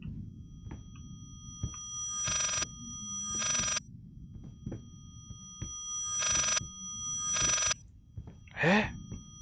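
An old telephone bell rings in the horror game Layers of Fear, sounding in four loud, regular bursts of about a second each between quieter stretches of low ambient rumble and creaks.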